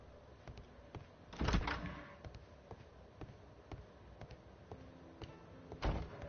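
A heavy door in the video game Sherlock Holmes: Crimes and Punishments shuts with a solid thunk, then another closes a few seconds later, over faint clicks and a quiet ambient hum.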